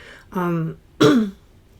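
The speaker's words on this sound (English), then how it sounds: "I'm clearing my throat" A man clears his throat twice in quick succession, two short, harsh rasping bursts close to the listener.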